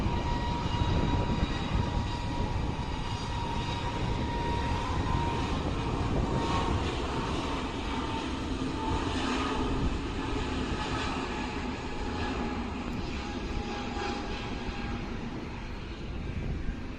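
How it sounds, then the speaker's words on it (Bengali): A white-and-blue IndiGo Airlines Airbus A320 at Dhaka airport, departing for Mumbai, gives a steady, loud jet-engine roar that holds broad and constant for the whole stretch, with no talk over it. "সাদা নীল রঙের ইন্ডিগো এয়ারলাইন্সের এয়ারবাস A320 মডেলের বিমান"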